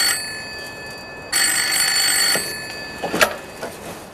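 An electronic telephone ring tone trills in a steady burst as a call is placed, then stops and is followed by a few faint clicks and a short chirp, clear and close with no talking.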